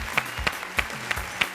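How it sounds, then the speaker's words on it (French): Applause from a crowd, a steady patter of many hands clapping with no voices over it. "Boris, on applaudit pour Boris, s'il vous plaît."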